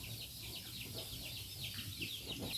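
Chickens clucking and calling repeatedly nearby, a busy flock of short chirpy vocalizations over a low background hum.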